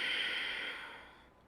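Slow yoga breath held in a standing strength pose, one soft airy exhale that gradually fades, close and quiet with no talk.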